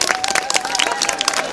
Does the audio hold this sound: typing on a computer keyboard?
no